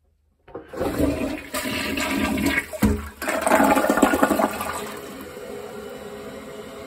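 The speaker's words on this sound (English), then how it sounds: "We're gonna flush it." A repaired household toilet flushes once, close by, starting with a sudden loud rush of water that swirls and gurgles for several seconds before easing into a steady quieter refill hiss.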